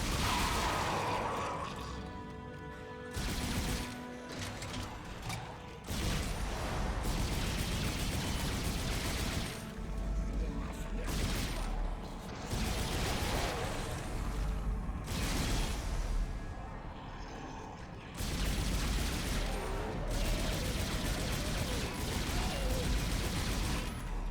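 Weapon fire in the Dead Space 2 Severed DLC on Xbox 360 comes as dense, repeated blasts and crashes of combat noise, loud and continuous with brief dips, with faint voices scattered through.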